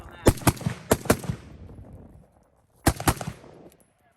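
PSA AK-P AK-style pistol fitted with a muzzle brake fires loud, sharp shots close by: a quick group of four or five around the first second, a pause, then a tight pair of blasts, each followed by a brief echo.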